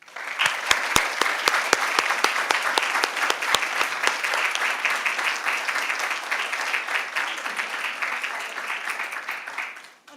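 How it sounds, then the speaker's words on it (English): A large audience at an El Paso Independent School District board of trustees meeting gives a loud, sustained round of applause, dense and steady for about ten seconds before tapering off. "a big round of applause"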